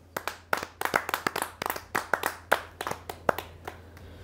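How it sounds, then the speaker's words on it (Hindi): A few people clap at a Hindi poetry gathering to welcome a poet to the stage, sparse distinct hand claps in an irregular rhythm, close and clear over a quiet hum. "आप जोरदार तालियों से स्वागत करें।"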